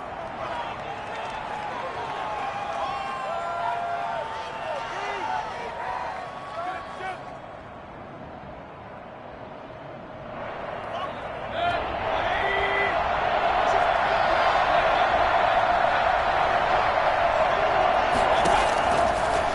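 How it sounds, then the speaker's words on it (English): A stadium crowd in the Madden 21 football video game roars louder and louder ahead of a big third down, building into a sustained cheer beneath the play-by-play commentary. "The crowd getting into it as we come up on a big 3rd down."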